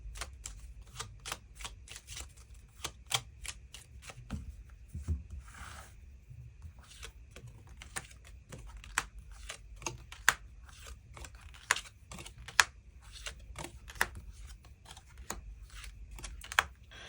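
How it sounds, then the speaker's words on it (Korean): Tarot cards being shuffled and drawn at close range, a long run of quick, sharp riffles and flicks with brief pauses, quiet and without talk. "추가 카드 뽑아보도록"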